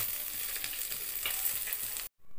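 Khoira fish fry in hot oil in a pan, giving a steady, dense sizzle at close range with soft crackling bursts. The sound cuts off abruptly near the end.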